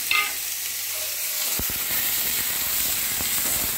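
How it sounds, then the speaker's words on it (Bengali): Potato pieces frying in hot oil for a Bengali chhanar dalna, a steady loud sizzle with sharp crackles and a few clear stirring knocks near the middle, no voices. "এবার আলু কটা ভালো করে ভেজে নেব।"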